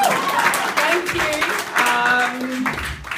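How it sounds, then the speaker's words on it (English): Applause rises from a stand-up comedy audience at a small club, a steady rattle of clapping with a voice and some tonal sounds over it before it tapers slightly at the end. "So can I get a round of applause?"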